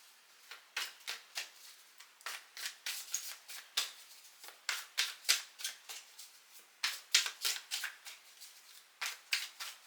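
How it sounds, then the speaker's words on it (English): A tarot card deck being cut and shuffled nearby, a quick irregular run of soft papery snaps and riffles, faint and alone. "I'm cutting the deck."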